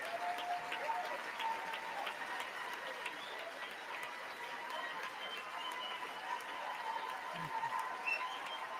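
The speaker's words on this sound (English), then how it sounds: "He's getting like a standing ovation, bro. Everyone's like cheering about how great he's doing." A standing ovation at the State of the Union address, a continuous wash of applause with some cheering heard at a distance. It stays even throughout, with faint chatter underneath.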